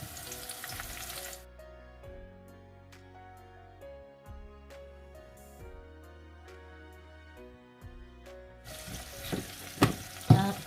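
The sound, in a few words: frying ox liver with onions and green bell pepper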